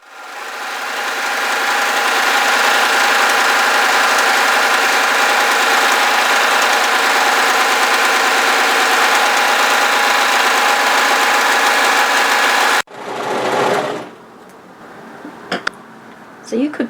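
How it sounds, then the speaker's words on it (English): An overlocker serges the raw edge of knit fabric for a fitted tee, running as a loud, steady mechanical hum for about thirteen seconds before stopping abruptly, followed by faint handling clicks. "I'm going to overlock the raw edge"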